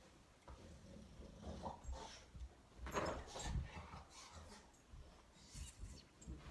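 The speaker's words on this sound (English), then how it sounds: "my dog's in the background, if you can hear him rolling around" A dog moves around and rolls about in the background of a quiet indoor room, making soft, scattered shuffles and thumps with a faint whimper or two.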